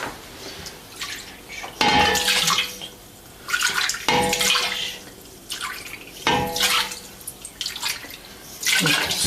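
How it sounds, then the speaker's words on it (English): Water pours in several separate bursts, splashing and gurgling into a container of extracted mandarin juice for citrus jam, with short pauses between pours. "And then the rest I will add water."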